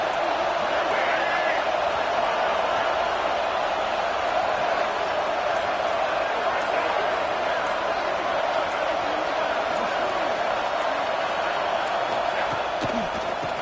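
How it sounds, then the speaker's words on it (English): A stadium crowd roars in the College Football 26 video game during an LSU season game, a steady, dense wall of noise holding at even loudness throughout. "This crowd bringing the energy and noise early."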